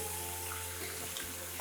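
Sea bass sizzles on a hot grill plate in a fish restaurant in Funchal, Madeira, giving a steady, dense hiss without pause and at a close distance.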